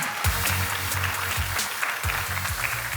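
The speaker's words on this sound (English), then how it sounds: "Let's give a huge round of applause for Jack McCall." Audience applause rings out for speaker Jack McCall at a business talk, a steady wash of clapping under a rhythmic musical beat that plays throughout.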